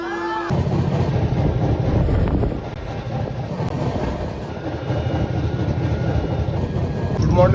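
Steady low rumble and rattling clatter of a train departing Panvel for Agra, as if heard from inside a carriage, with a few brief whistle-like tones.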